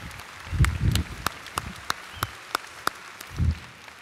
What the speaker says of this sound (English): A big round of applause for Plowman.